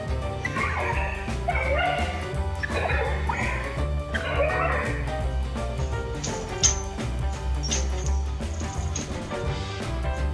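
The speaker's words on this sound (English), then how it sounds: "Border Collies are highly intelligent and energetic dogs that often express their excitement by constantly jumping, running, and playing." A Border Collie barks and yips excitedly in a rapid run of close, loud barks with a few whimpers, set against a steady background of other sound, with a few high sharp yelps near the end.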